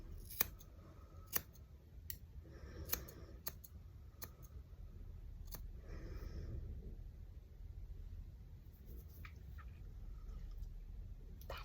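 Scissors snipping through hair, a handful of sharp distinct cuts spaced irregularly over the first half, then quieter rustling with no talking.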